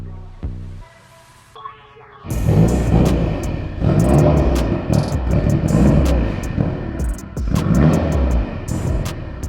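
A car in a shop, which had been refusing to run, cranks briefly with a starter whir, then catches and fires up. It settles into a loud, close, rumbling idle with uneven pulses and clanks, and no one speaks.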